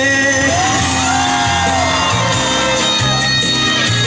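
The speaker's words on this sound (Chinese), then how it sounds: "再来的朋友，全场的尖叫声在哪里呢？" Concert crowd at an outdoor evening music show on a bridge in Xiluo, screaming and whooping loudly in a sustained roar over steady music with low thumping beats.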